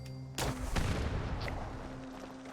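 Weapon fire in the Fallout 76 video game: two sharp shots open the sequence, then a dense, sustained rumble of gunfire continues at moderate loudness with no talk.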